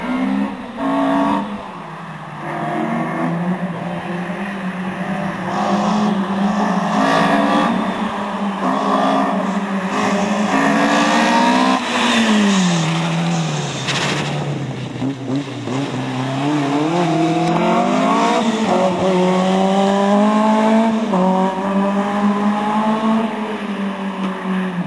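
An Opel Kadett C race car starts and drives off at a German club racing event in Bönen, its engine loud and close, rising and falling through repeated revving gear changes for the whole stretch, no talking.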